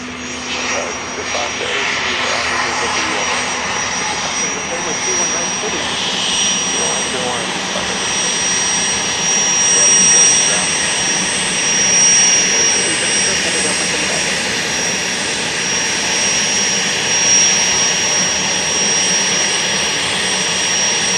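A jet airliner on the runway at Dallas Love Field gives a steady, loud engine roar that holds for the whole stretch with slight swells, heard at moderate distance with a voice talking faintly over it.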